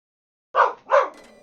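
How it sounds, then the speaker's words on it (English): A pet dog indoors gives two quick, fairly loud barks in close succession after a short silence, followed by a soft trailing whine. "You can hear my dog."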